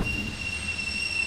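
Train wheels squealing as a train rolls and brakes in the video game Garry's Mod, with steady high-pitched metallic whines over a low rumble, loud and continuous with no voices.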